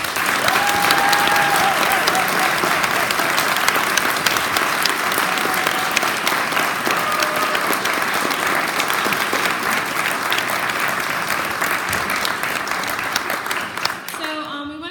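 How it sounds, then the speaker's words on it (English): Sustained audience applause fills the whole stretch, a steady, loud wash of many hands clapping at an even level that dips slightly and fades only at the very end. "give them a huge round of applause"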